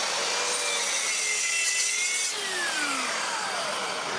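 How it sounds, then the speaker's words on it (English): A hand saw cuts through a piece of scrap wood being trimmed flush to a hole for dowel making, a steady rasping stroke that shifts pitch midway, close and alone. "then cut the scrap down as close to the edge of the hole as you can"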